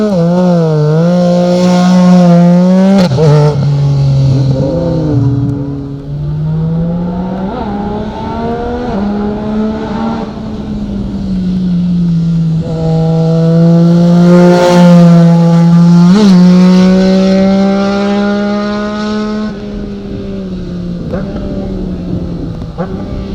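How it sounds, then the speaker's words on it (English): Yamaha Nikon GT 850 sidecar outfit revving hard up a motorcycle hillclimb course, a loud, close engine note rising and falling through gear changes, with a commentator talking over it throughout. "Just hear a glimpse there of that Yamaha slipper clutch as it headed up the hill"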